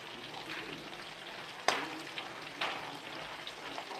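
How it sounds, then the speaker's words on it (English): Shrimp frying in butter in a pan while being stirred, soft steady sizzling with a few sharp scraping clicks and clatters from the utensil, fairly quiet and without talk. "I just keep stirring so that the butter won't burn. Also to get the shrimp cooking."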